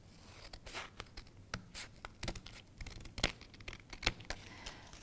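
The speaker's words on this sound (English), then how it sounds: "if you fold it up like that and then make one straight cut" Scissors snipping through folded A4 paper in a series of short, crisp cuts and rustles, close and quiet, with no talking.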